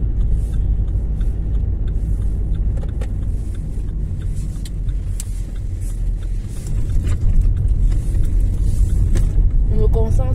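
Steady low road rumble of a car in motion, continuous and fairly loud throughout, with someone talking over it now and then.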